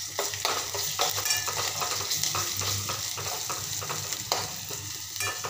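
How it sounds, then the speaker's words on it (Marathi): Ground spice paste and dry coconut sauté in oil for a capsicum sabzi. A steady sizzle is broken by repeated rhythmic scrapes of a spoon stirring through the pan, close and fairly loud. "हे सर्व मसाले मस्त तेल सुटेपर्यंत परतून घेणार आहोत।"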